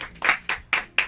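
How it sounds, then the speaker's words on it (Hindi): Clapping at a studio talk show, four sharp, evenly spaced hand claps heard close and fairly loud, more like one or two people than a full crowd. "दोनों के लिए जोरदार तालियां"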